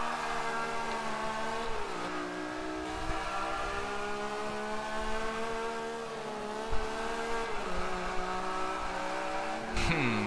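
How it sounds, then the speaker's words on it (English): Lancia S4 rally car racing in Forza Motorsport 5, its engine droning and revving steadily up and down through gear changes, with brief bumps and a tire screech near the end. "This Lancia is a proper rally car. It slides, it's dangerous."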